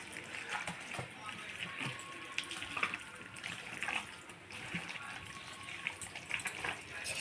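Tap water running steadily while ingredients for mutton biryani are washed, a continuous splashing gush with occasional knocks, close by with no talk.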